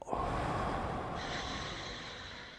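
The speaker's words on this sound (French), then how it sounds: "Alors, une respiration." A single deep breath drawn in and slowly released, close and fairly soft, a long airy rush with no talking.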